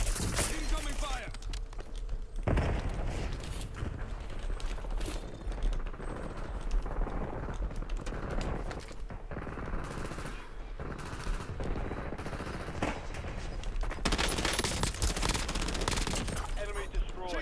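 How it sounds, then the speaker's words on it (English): Automatic weapons fire in Black Ops 7 in rapid bursts and sustained volleys, dense and loud throughout, with voices speaking over the shooting. "Incoming fire."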